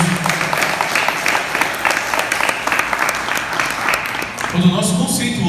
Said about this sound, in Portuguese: palmas para a palavra do Senhor